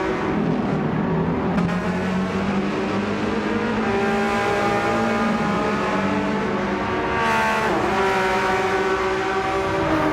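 Several race cars battle closely in Gran Turismo 7, their engines revving and shifting pitch continuously with rising and falling tones, loud and steady throughout with no talk.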